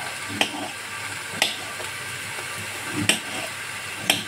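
Chicken basquaise browning in a home pan, a steady low sizzle broken by a few sharp clinks of a utensil stirring at regular intervals, close and moderately loud with no talk.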